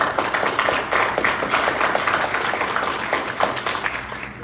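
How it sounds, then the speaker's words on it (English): Round of applause for a colleague named Regina at a board meeting, a steady dense patter of many hands clapping continuously, fairly loud and sustained, tapering slightly at the end. "let's give her a round of applause"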